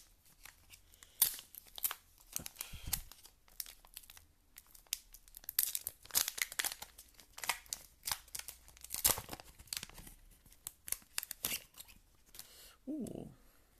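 A Naruto Kayou trading card booster pack being carefully torn and opened, with close crinkling foil, ripping and rustling spread across the whole stretch, loud bursts separated by brief pauses, no speech.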